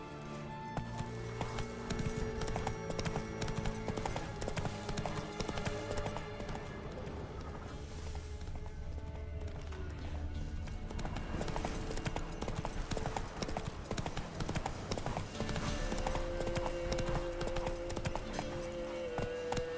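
Hooves of the horse in The Witcher 3 video game clip-clop in a steady rhythm for about twenty seconds, with game music and a brief spoken line mixed in.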